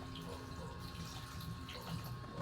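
Cooking water poured into a pot for a Filipino pinaksiw with santol, a steady full rush of liquid that runs throughout without a break, close and loud, no voices.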